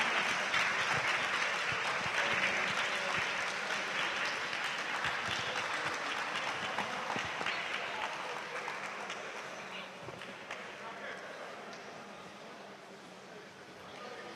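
A lecture hall audience stands and claps after an inaugural lecture by a professor, a broad, sustained wash of applause that slowly thins and fades over about fourteen seconds.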